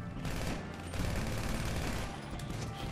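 Rapid bursts of gunfire from a GTA V Online deathmatch against the Ballas, dense and loud throughout with overlapping shots and game noise.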